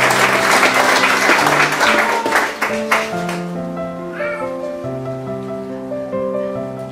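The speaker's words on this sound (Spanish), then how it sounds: "Esas palmas," Guests at a 2021 wedding ceremony in Pomacocha, Peru, clap loudly together for about three seconds. The clapping then fades out as steady, sustained music carries on alone.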